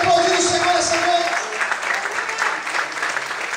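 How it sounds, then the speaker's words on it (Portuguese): A church congregation breaks into sustained applause during a Pentecostal-style service, a dense crowd of clapping hands that carries steadily under a preacher's amplified voice. "Você pode aplaudir o Senhor nessa noite?"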